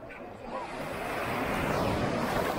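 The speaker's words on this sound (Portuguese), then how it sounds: "Mas essas ondas estão boas pra poder surfar" Ocean surf at a beach, a broad continuous wash of breaking waves that swells louder after the first half second and stays steady, close and fairly loud with some wind rumble and no talking.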